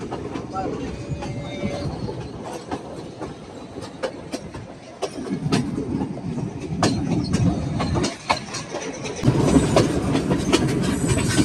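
A train rumbles along the tracks between Nuwara Eliya and Ella in Sri Lanka with a rhythmic clickety-clack of wheels over rail joints, heard from inside the carriage. A voice speaks over it.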